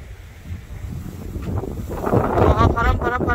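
Wind gusting on a coastal hiking trail along the Taean shoreline, a broad rushing roar that swells louder toward the end, buffeting the microphone, with faint voices beneath.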